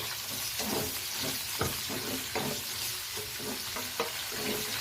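Garlic sizzles and spatters in a hot pan for Filipino ginisang bagoong with ginger, a dense continuous frying hiss broken by regular scraping stirs, close and fairly loud, with no talk.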